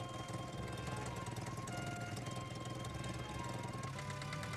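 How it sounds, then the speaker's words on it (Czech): A worn car engine runs steadily with a rough, knocking rattle and low vibrating drone, continuous and fairly loud, no voices. "Poslouchejte, jak je možné odhadnout stav motoru podle zvuku."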